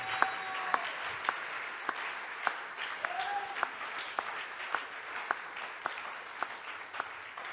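Applause at a Ghanaian church or prophetic gathering: a crowd claps steadily with sharp individual claps standing out, moderately loud and continuous, with faint voices beneath.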